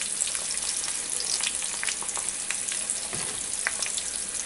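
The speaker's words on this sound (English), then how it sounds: "now that's just bacon grease I'm cooking it in." Bacon grease sizzles steadily and fairly loudly in a cast iron skillet, a continuous crackling hiss with small pops and no voices.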